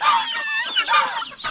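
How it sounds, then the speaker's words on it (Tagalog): Farmyard geese honk loudly and close by, a run of harsh, nasal calls overlapping one another in quick bursts with brief pauses between. "Napakaingay ito ng gansa mga kaprobinsya."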